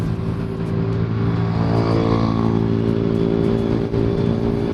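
A motorcycle on a Sunday breakfast ride with a club gives a steady, loud engine drone with rich harmonics throughout, and the pitch shifts slightly as the bike holds speed on the road.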